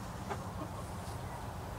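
Broody hens cluck softly and continuously, a low murmuring burble close by with no talking over it.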